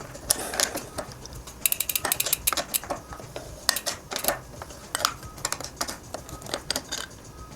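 A bicycle crank arm being pulled off with an E13 TRS crank arm bolt removal tool, giving a run of sharp metallic clicks and ratcheting taps in irregular bursts, close up with no talking.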